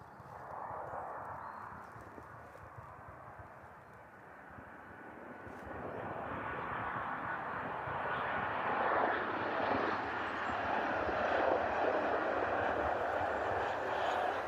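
Jet2 passenger airliner arriving at East Midlands Airport on a service from Faro, its broad engine roar building from moderate to loud and holding steady as it draws near, with no talk over it.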